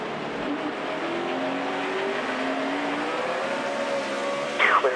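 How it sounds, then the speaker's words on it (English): NASCAR Sprint Cup race car spinning its tires coming off turn two in the 2008 Tums Quikpak 500, heard from in-car, with a steady loud engine roar, rising tones, and a brief sharp burst near the end. "You can hear Dale Jr. spin the tires as he gets off turn number 2."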